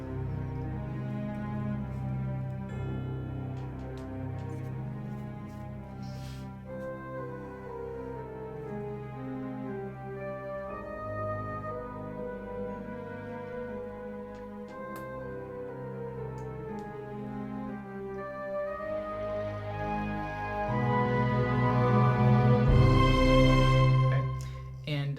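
Section of a large orchestral score with strings entering first, then brass and horns, sustained chords and moving lines building to a fuller, louder swell near the end.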